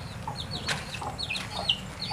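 A chicken clucks and squawks in short, scattered bursts nearby, over a low background hum.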